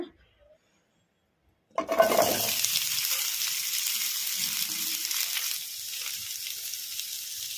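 Chopped onions hit hot oil in a kadai with a sudden loud sizzle that settles into a steady close crackling hiss for a Karnataka-style onion chutney, no voices over it.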